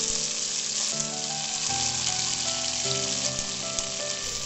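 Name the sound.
sliced raw plantain frying with dried chilli and curry leaves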